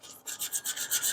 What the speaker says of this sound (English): So now we're taking the emery cloth.